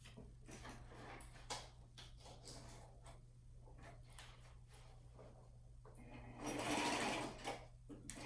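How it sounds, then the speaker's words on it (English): A sewing machine stitches through paper in a steady rapid mechanical chatter, rising louder briefly near the end, close up with no voices. "I'm gonna run through this in my sewing machine real quick"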